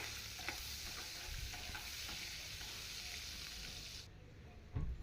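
Onion and cumin seeds frying in oil with a bit of fish, a steady close sizzle with light stirring scrapes, continuous and fairly quiet, ending with a couple of louder knocks.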